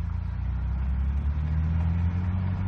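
A 2021–2022 Ford Bronco on the move gives a steady low engine drone and road rumble from inside the cabin, loud and continuous with no speech.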